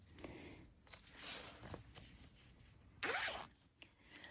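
A zipper pull slides along a continuous zipper in short, close rasping runs, with a longer louder pull near the end and small clicks and handling noises between.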